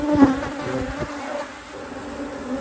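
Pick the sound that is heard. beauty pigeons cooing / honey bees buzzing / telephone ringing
honey bees buzzing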